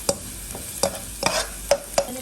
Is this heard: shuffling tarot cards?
no